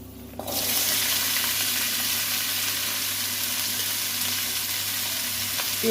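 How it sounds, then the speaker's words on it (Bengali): Whole cumin seeds hit hot mustard oil with a sudden burst, then a steady loud sizzle continues unbroken, with no talking. "পরিমাণ মতো গোটা জিরে সুটি দিয়ে ভাজি দিয়ে"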